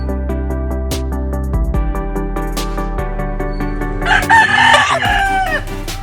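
White Kelso roosters, stags and cockerels at a game farm crow loudly several times in succession, with clucking from other fowl mixed in and a louder burst of crowing near the end.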